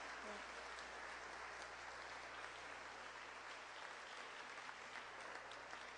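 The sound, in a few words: congregation applause for Jesus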